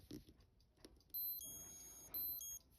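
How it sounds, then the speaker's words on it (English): A Seiko H/84 quartz wristwatch alarm beeping after a restoration: two bursts of high, electronic pulsing beeps, faint and close, following some quiet handling clicks. "Congratulations, your alarm works."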